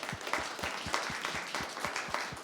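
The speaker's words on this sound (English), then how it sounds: "Round of applause for Leland." Applause from a small audience at a body language seminar, thin clapping with several distinct individual claps standing out in a loose rhythm, fairly quiet and close.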